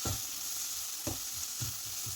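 Turmeric, chili and black pepper powders stirred into oil in a pan for a spinach and potato thoran: a steady close frying sizzle with a few soft scraping stir strokes recurring about every half second.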